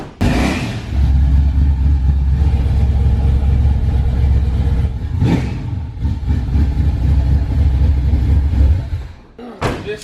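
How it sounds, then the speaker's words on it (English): A 1970 Nova with a 454 engine, dual carburetors, custom headers and custom exhaust rumbles loudly and steadily at close range for about nine seconds, with a brief rev-like swell midway and a sharp knock as it cuts off near the end. "1970 Nova, 454. Dual carburetor setup, completely custom exhaust and headers."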